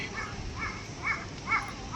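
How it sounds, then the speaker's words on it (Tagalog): Several crows caw repeatedly at a moderate distance in a park near Tokyo Tower, Japan, a rhythmic series of harsh calls over a low outdoor rumble. "Daming uwak, grabe."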